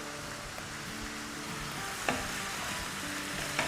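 Prawns cook in a pan on a big stove with a steady, dense sizzle, and a couple of sharp utensil knocks stand out against the constant frying hiss.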